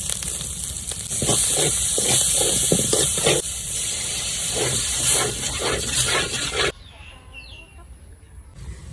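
Hot oil sizzles hard in a pan in a Bengali village kitchen as turmeric, chili and cumin go in, a loud, steady hiss for about seven seconds that stops abruptly, leaving faint birdsong in the background.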